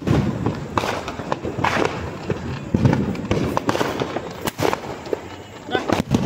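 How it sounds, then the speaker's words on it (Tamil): Diwali fireworks pop and crackle in a quick irregular series of sharp bursts, some near and some farther off, mixed with people talking and outdoor bustle. "எங்கே போய் வெடிக்குதுன்னே தெரில, மேலே எங்கேயோ போய்."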